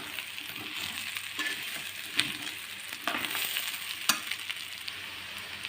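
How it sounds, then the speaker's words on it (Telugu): Gongura egg pulao masala frying in a pan, seasoned with garam masala and salt, giving a soft continuous sizzle with scattered clacks and scrapes from stirring, close and fairly quiet, no speech. "చక్కగా వేగిపోయింది కదండి."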